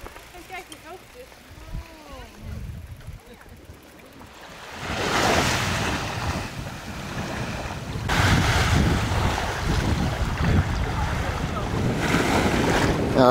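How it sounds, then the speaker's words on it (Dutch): Waves and surf on a beach in Cuba, a broad roaring wash of breaking water with heavy wind buffeting the microphone, arriving after a quieter opening with a voice speaking, then building and surging in rolling swells. "We zijn bij het strand."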